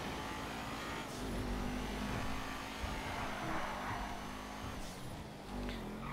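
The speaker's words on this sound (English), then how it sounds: "the sound of the car." A video game sports car engine, the GTA 5 Ocelot F620 modeled on a Maserati GranTurismo, drones continuously with rising and falling revs, a steady motor roar with small swells, no voices.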